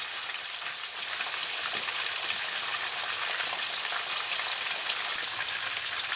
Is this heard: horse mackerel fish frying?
yes